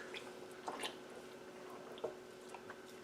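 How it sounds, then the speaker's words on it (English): Homemade spaghetti sauce being stirred in a pot, faint wet squishing and occasional soft clicks of the utensil, quiet and intermittent over low room noise. "I'm going to give it a stir."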